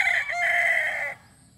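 A young rooster crows once, close and clear, a single drawn-out call lasting about a second before cutting off to quiet.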